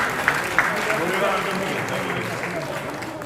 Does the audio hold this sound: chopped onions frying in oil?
no